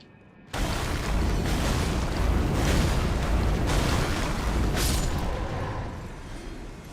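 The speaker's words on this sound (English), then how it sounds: "It's a bird with an explosion." Sudden heavy explosion from an exploding bird in the Elden Ring video game, a loud roaring blast that hits at once and keeps rumbling for several seconds; no talking.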